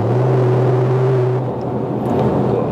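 A BMW G30 540i accelerates with a steady engine drone and rising whir that holds loud and close, then eases into a broader road rumble with no talk.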